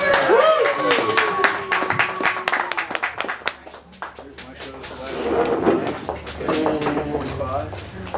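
A bar audience claps for a live Celtic band in uneven bursts of fairly close, sharp hand claps that rise and fall, with people talking through and over the clapping.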